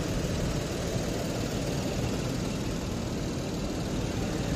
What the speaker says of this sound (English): It's not a shaky engine